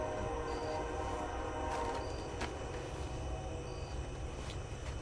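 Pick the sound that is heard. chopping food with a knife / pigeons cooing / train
train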